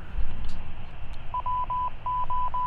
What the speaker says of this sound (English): I can already hear the tone coming off of the repeater